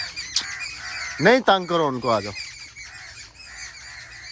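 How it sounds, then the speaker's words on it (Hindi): Geese or similar fowl honk and squawk in a burst of several loud, rising calls, with other bird chatter behind, while someone speaks nearby over them. "जो बैकग्राउंड में आपको परिंदों की चहचहाती हुई आवाज़ें सुनाई दे रही हैं"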